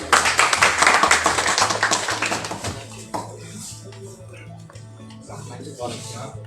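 Audience applause at a membership card and award distribution ceremony, a burst of clapping that starts loud and fades over a few seconds, with a low steady tone and faint voices continuing underneath.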